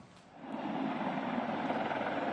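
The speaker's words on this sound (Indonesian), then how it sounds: "Sebuah helikopter milik militer Israel mendarat di dekat perbatasan Gaza" An Israeli military helicopter lands near the Gaza border, its engine and rotor rising from quiet into a loud, sustained whirring drone with a faint rhythmic pulse.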